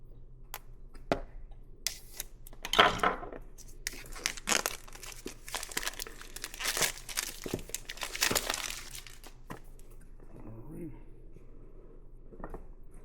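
A knife slices and tears through the plastic and cardboard packaging of OnePlus Buds Pro 3 earbuds, with close crinkling, scraping and ripping in irregular bursts.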